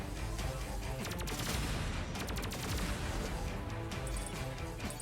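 Video game gunfire in Terminator 2D: NO FATE, with rapid bursts of shots and dense crackling fire running throughout, clustered and loud, alongside other game sounds.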